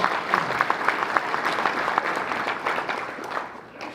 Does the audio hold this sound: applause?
yes